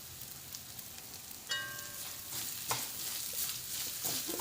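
Onions and chilies fry with grated coconut in a pan for a jackfruit dish, a soft steady sizzle broken by occasional stirring scrapes, heard close and fairly quiet.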